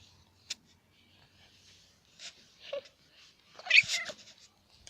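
A cat gives a few sparse meows close by, with a short sharp tap early on and a louder drawn-out meow near the end, against quiet surroundings.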